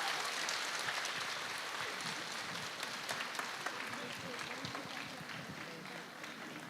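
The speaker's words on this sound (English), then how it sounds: "can we have another round of applause?" Applause from a live performance audience, a dense, even wash of clapping that holds steady and then eases slightly toward the end, heard at a moderate distance with faint crowd noise underneath.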